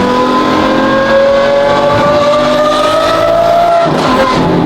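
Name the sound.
Lamborghini Aventador F1 exhaust revving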